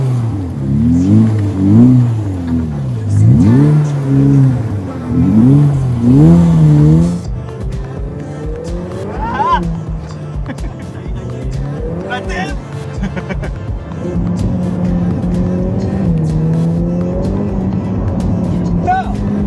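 A Ferrari F8 Tributo V8 sports car engine revs hard through several rising and falling sweeps, then settles into a lower, steadier drone as someone talks over it.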